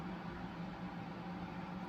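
Water boiling in a cooking pot makes a steady, dense broadband rush with a low bubbling rumble, continuous and fairly close, with no voices over it.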